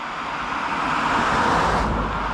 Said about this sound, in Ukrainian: Ще три машини.